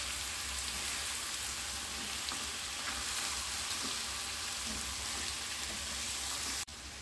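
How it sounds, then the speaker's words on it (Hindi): Mixed vegetables for veg biryani fry in a pan with a steady, close, continuous sizzle and crackle that cuts off abruptly near the end, with no talking. "देखिए सब्जी हमारी अच्छे से भून गई है।"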